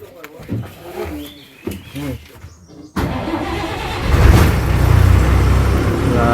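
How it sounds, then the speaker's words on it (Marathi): A heavy bus engine turns over and roars to life midway, then keeps running loud and steady, with people talking nearby beforehand. "गाडी चालू झालेली आहे"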